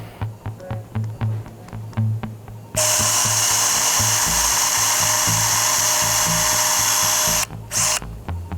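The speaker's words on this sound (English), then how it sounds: "because I'm about to drill" A high-pitched surgical bone drill whines loudly during spinal surgery on a French Bulldog, one sustained burst of several seconds, then stops and restarts briefly, after a stretch of rhythmic beeping monitor tones.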